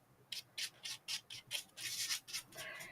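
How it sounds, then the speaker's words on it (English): Brush strokes dragging paint over small cutout styrofoam pieces, a series of soft, rhythmic rubbing swishes close by, about ten strokes in quick succession and no voices. "So I'm just painting right now these little cutout pieces."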